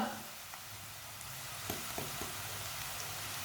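Chopped onion, crushed ginger and garlic frying in oil in a pan, a soft continuous sizzle with a few light stirring clicks, fairly quiet and steady, no talking.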